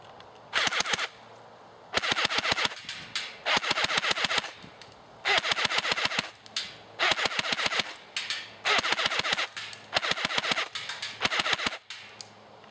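A JG M4A1 airsoft AEG fires repeated full-auto bursts at a target after an M130 spring change, each burst about a second long with a rapid mechanical rattle, separated by short pauses, close and loud.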